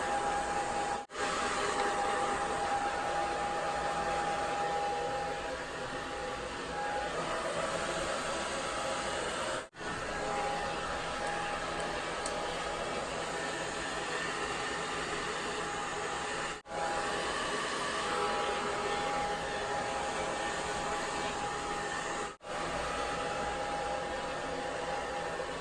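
Hair dryer on high heat blowing on very wet short hair: a loud, steady whooshing drone with a faint whine, broken by a few brief dropouts where it cuts or shifts, no talk.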